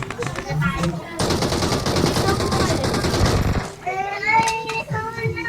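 Rapid automatic gunfire in a shooter video game, a dense, loud sustained burst lasting a couple of seconds, with a player talking before and after.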